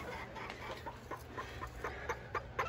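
Faint, soft clucks and small peeps repeat irregularly against a quiet background hum, like hens with young chicks nearby; bantam chickens and newly hatched chicks, with quail also hatching chicks.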